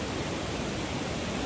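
The waterfall at Mother Falls in Baler, Philippines, roars as a steady, dense rush of falling water, loud and unbroken throughout with nothing else audible.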